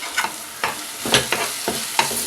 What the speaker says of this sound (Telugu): దీన్ని నూనె పైకి తేలేంత వరకు కూడా ఫ్రై చేసుకుందాం